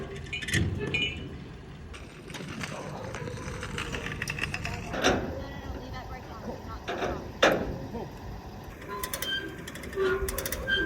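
Ratchet strap or winch pawl clicking in bursts while an abandoned Mazda RX-7 is pulled onto a trailer, with clinks and mechanical rattles close by amid outdoor noise.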